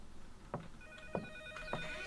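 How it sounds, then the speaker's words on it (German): A telephone ringing in the horror video game NOISE, quiet repeated electronic ring tones with a few soft thuds between them. "Ach, das war das Telefon, ne?"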